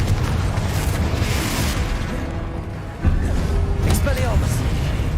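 A Confringo fire spell explodes in Hogwarts Legacy, with a loud burst around the middle of the clip over dense, constant game rumble and effects, while a person calls out spell names.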